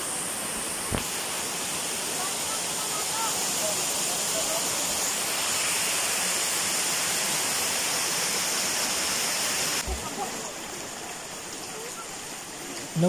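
Steady, loud rush of falling water at Dallanitan Falls in Barangay Tilasan, R.T. Lim, Zamboanga Sibugay, a continuous broadband roar filling the whole stretch with a couple of brief knocks.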